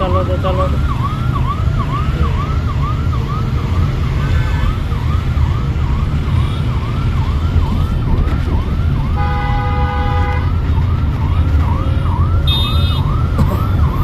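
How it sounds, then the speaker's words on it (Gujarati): An ambulance siren wails in rapid repeating sweeps close by while it passes a car during a driving lesson, loud and continuous over the steady rumble of traffic and engine. "સ્લો ક્લચનો બ્રેક આમ અંદર રાખો એટલે એમ્બ્યુલન્સ જતી રહે પાછળ."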